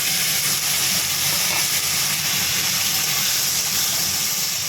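Vegetables sizzling in hot oil seasoned with five-spice and dried chilli for a vegetable masoor dal, a loud, continuous close hiss and crackle.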